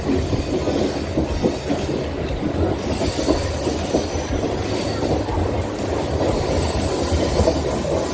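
A Sangpada carshed local on the CSMT to Goregaon harbour line runs with a continuous close rumble, rhythmic clickety-clack over rail joints and occasional wheel squeal, with no talking.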